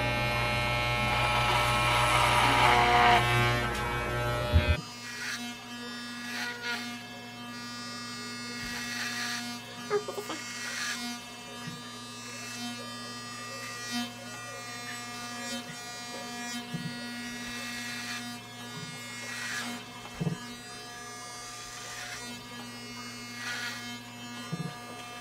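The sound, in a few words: Conair electric hair clippers cutting a man's hair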